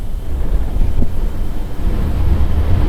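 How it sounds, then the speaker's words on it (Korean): Strong night wind buffets a Kia Bongo camper van, giving a steady, loud low roar and rumble that fills the whole stretch without pause. "바람."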